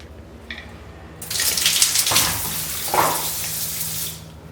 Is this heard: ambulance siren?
no